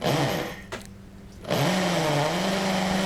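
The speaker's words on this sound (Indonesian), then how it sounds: "BA670 ini dengan mudah untuk mengebor beton" A Doliz BA670 impact drill with an 8 mm bit grinds into a concrete paving block in loud, harsh bursts, pausing briefly in the middle before the motor surges again.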